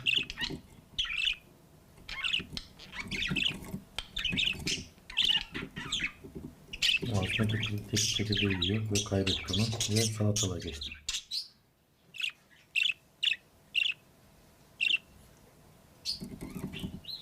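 Bright, rapid chirps and twitters from a budgerigar come in bursts throughout, with a person talking over them partway through.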